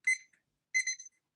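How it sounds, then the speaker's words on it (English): A kitchen timer alarm sounds two quick bursts of high electronic beeping separated by a brief silence, clear and close with nothing else audible. "Tony, I've got my very expensive kitchen timer here"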